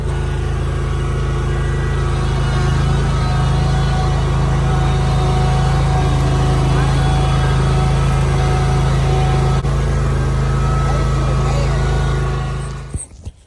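A tractor engine runs steadily at a low, constant drone throughout, loud and close, with a faint voice over it before the sound cuts off at the end.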